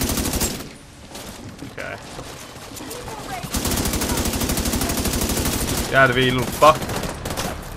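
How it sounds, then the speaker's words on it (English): Rapid automatic gunfire in The Division 2 video game, loud sustained bursts of shots crackling near and far, with someone talking briefly over the shooting. "I'm getting shot to absolute shreds."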